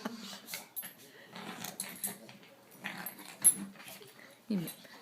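A small dog growls and snarls in short, uneven bursts while playing with a toy, close by, with faint jangling and light rustling between the noises.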